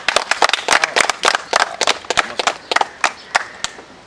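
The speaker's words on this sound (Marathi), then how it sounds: "टाळ्या जोरदार झाल्या पाहिजे" Applause at a birthday felicitation gathering in Dahisar East, a crowd clapping in dense, irregular bursts for about four seconds, fairly loud and close, with no talk over it.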